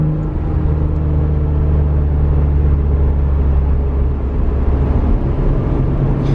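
An Acura NSX cruising at steady speed, its engine a continuous low drone with road rumble, heard from inside the cabin without pause.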